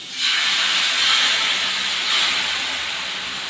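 Rava dosa batter is poured in a circle onto a hot griddle and sizzles, a loud steady hiss that swells in quickly and holds, close up with no talking.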